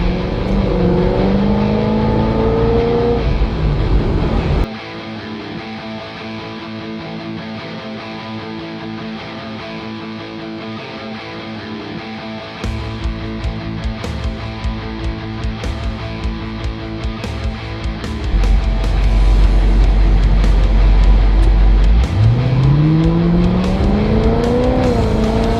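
A car engine revs hard at the start, then cruises with a steady droning hum before climbing again into a loud, rising rev near the end, heard close from inside the vehicle with no talking.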